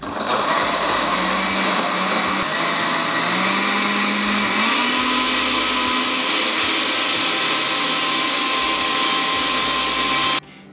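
A blender grinds dried chillies, peppercorns, mace and sour yogurt with a little water into a fine paste, a loud steady motor whine whose pitch rises slightly as it runs, then cuts off abruptly.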